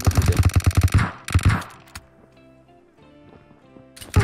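Automatic gunfire in PUBG Mobile cracks out in a loud rapid burst of about ten shots, followed by a second short volley, then quiet game sounds and another burst at the end.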